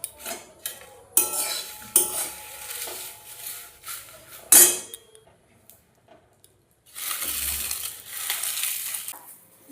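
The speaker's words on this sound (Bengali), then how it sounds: "সেই পেঁয়াজের খোসাগুলো আগে আমি সুন্দর করে ফ্রাই করে নেব।" Onion peels are stirred in a hot wok, with a utensil scraping and clattering against the metal in irregular bursts and a faint crackle of frying.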